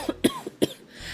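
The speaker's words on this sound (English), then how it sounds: "I have a bad cough today" A person with a bad cough coughs several times in quick, sharp bursts, close and fairly loud.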